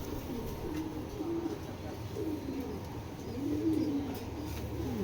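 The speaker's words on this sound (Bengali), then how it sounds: "এইগুলো বাহিরের কবুতর" Foreign racer pigeons coo in low, rolling phrases, several soft calls repeating across the stretch over a steady background hum.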